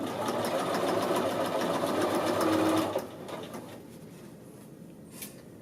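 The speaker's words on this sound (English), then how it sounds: "I'm sewing the top edge of it here." A sewing machine edge stitches a men's shirt collar band, humming steadily and close for about three seconds before stopping, followed by quieter handling sounds.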